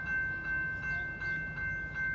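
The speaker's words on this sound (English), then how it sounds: "The next Metra train approaching your station will be a Metra Express train and will not stop." A Metra express commuter train rumbles steadily through the Riverside, Illinois station without stopping, with a sustained horn-like tone ringing over the low, continuous roar of the cars.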